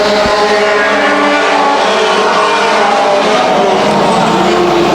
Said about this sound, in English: We are ready to pound the throttles one more time.